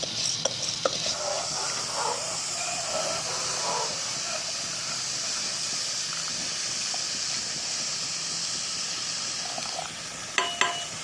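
Basmati rice, washed beforehand, tipped into a pot of simmering water while preparing Gujarati tuvar dal and rice, giving a steady hiss and sizzle with stirring scrapes and a few clinks near the end.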